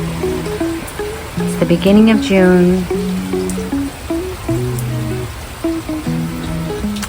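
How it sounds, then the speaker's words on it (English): Steady rain falls through a humid early-June day in Miami, a soft broadband patter continuing under a person talking close to the microphone. "It's a super rainy day in Miami."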